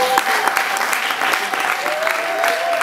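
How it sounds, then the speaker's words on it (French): Audience applause fills a hall at a wedding speech honouring a couple, steady dense clapping sustained for about three seconds with faint crowd voices mixed in. "Est-ce qu'on peut essayer de les applaudir?"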